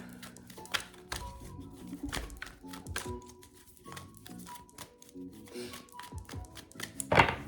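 Cards are shuffled and tapped in quick irregular bursts, with soft slaps and riffles close by and no talking.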